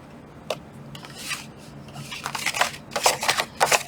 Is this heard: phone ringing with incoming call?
no